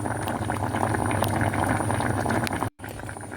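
A pot of pumpkin jelly bubbles at a steady rolling boil, thick popping and gurgling up close, with a brief break near the end.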